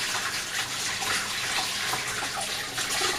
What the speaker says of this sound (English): I'll quickly wash my hands so I can show you the finished tray.